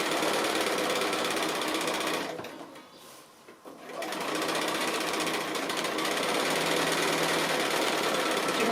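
A sewing machine runs steadily for free-motion echo quilting of a Hawaiian-style quilt, a fast, dense needle chatter that fades briefly for about a second midway before resuming at full, close, continuous speed.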